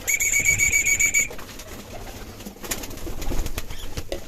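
Young birds call at feeding time in an aviary, with a high whistling peep at the start, then soft cooing and scattered chirps that continue over a rustling background.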